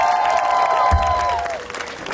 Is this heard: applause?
yes